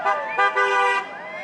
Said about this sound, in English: I saw a truck with a gun rack honk